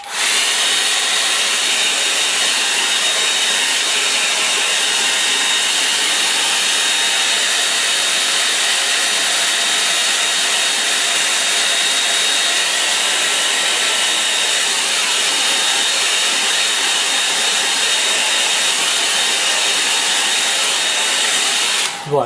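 Hair dryer blowing continuously and loudly for over twenty seconds to dry a wet watercolour painting, a steady unbroken rushing whoosh with no pauses.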